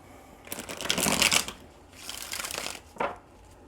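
Tarot cards are shuffled up close in two riffling bursts with a short pause between, followed by a brief final snap of cards.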